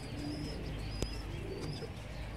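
A high flying pigeon coos softly while held in someone's hands, low murmuring calls close by against steady background noise, with a brief sharp chirp partway through.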